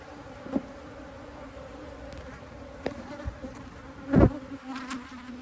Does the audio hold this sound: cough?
no